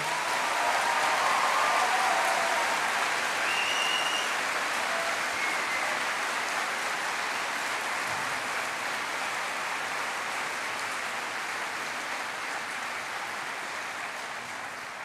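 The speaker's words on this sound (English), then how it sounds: "Let's give them a round of applause as well." A large graduation audience claps continuously, a dense and sustained wave of applause that stays strong throughout and eases only slightly toward the end.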